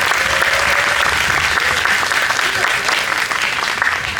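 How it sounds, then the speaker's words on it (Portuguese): An audience at a textile-art fashion show performance claps loudly and continuously, a full, close wash of palms sustained throughout with no voices on top. "Uma salva de palmas para esses parceiros"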